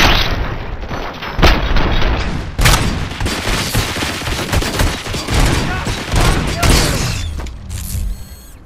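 Dense gunfire rattles through a firefight in the video game RoboCop: Rogue City: rapid bursts, heavy booming shots and clattering impacts, loud and close, with a voice faintly mixed in underneath.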